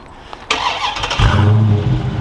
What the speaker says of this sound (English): If I go ahead and lock it and double tap on the key fob, you can hear the Hemi.